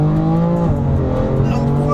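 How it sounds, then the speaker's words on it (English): A wrecked, rear-wheel-drive BMW M4 accelerating at full throttle, its engine roaring loud and close from inside the car, pitch climbing and dropping sharply at a gear change. "I'm fully flat on the throttle there. This is a bloody fast car."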